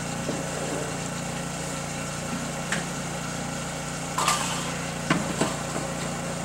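A Brewer Science CEE 100 spin coater with its spindle spinning, giving a steady, continuous high-pitched motor whine with a few brief clicks and ticks over it.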